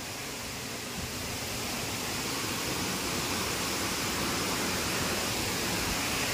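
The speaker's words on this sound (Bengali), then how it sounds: "এটা হচ্ছে ঝর্ণা।" Steady, dense rushing water from Chhara waterfall in Khagrachhari district during rain, loud and unbroken throughout with no voices.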